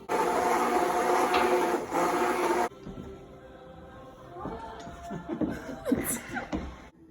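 A blender purees homemade pasta sauce, a loud steady motor whir for a few seconds that stops abruptly, followed by quieter handling clatter and knocks.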